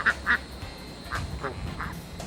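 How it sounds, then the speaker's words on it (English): Small ducks quacking in short nasal bursts, a pair of quick calls followed by several more scattered over a couple of seconds, moderately close against faint outdoor background. "In addition to that, I have 5 little ducks."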